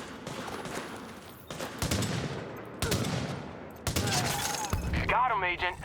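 Video game gunfire in several heavy bursts separated by brief pauses, each volley sharp and crackling with rapid automatic fire, followed by a short swirling electronic effect near the end.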